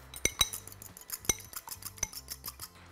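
An egg being beaten in a bowl with a utensil for a chicken and corn soup, quick irregular clinks and taps against the bowl, close and fairly quiet, with no talking.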